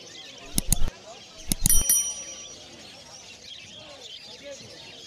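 At the Galiff Street pet market in Kolkata, caged exotic birds, including Gouldian finches, let out two quick clusters of sharp, high chirps close by, while someone talks over the steady market hubbub.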